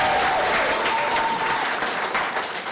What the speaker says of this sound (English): And give yourself a clap.